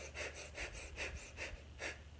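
Short, quick breaths repeat in a steady rapid rhythm, about eight soft airy pulses in a couple of seconds, close but quiet, with no talking.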